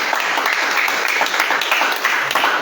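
A church congregation at a Sunday miracle service claps and applauds steadily, a dense, loud wash of hand claps filling the room without pause.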